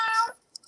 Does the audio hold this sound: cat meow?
yes